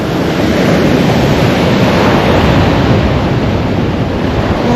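Waves wash steadily onto a long sandy beach at a lake campground, a loud continuous roar of surf mixed with wind buffeting the microphone, with no voices.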